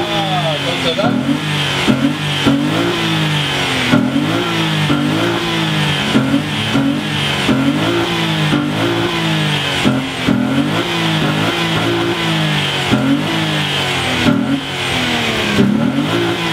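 An Opel Omega B engine at a 2018 Opel meet in Bad Hersfeld is revved repeatedly for a loudness measurement, loud rising and falling revs in a rhythmic series of bursts, with people talking over it.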